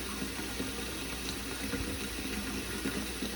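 Tap water runs steadily into a saucepan as it fills about halfway in a home kitchen, a continuous close splashing stream with a faint low hum underneath.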